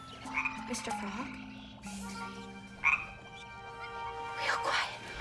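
A frog croaks a few times at close range in a quiet indoor setting, with short raspy calls spaced apart and soft background noise between them.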